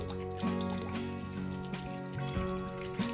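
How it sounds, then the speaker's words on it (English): Coconut milk pours into a pot of vegetarian yellow curry with carrots, making a soft liquid trickle and gurgle against a steady kitchen hum, close and fairly quiet. "I am gonna pour in coconut milk that we had open."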